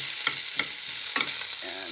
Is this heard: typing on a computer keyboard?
no